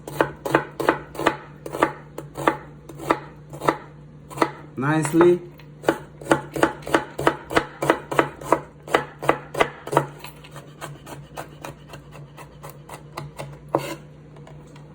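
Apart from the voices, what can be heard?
knife dicing red onions on a cutting board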